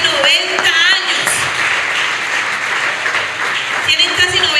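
Church congregation applauding, a sustained clatter of many hands clapping with a preacher's voice speaking over it at the start and end, loud and close in a worship hall.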